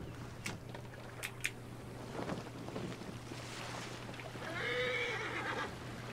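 A horse in the video game Assassin's Creed Origins gives a clear whinny near the end, rising above a breezy background. Scattered thuds and soft scrapes come before it.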